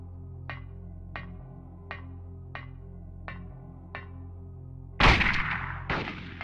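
Two heavy gunshots in the video game Silent Hill, during a fight with a possessed Cybil: a loud booming blast, then a second close behind it. Both follow a steady series of soft mechanical ticks.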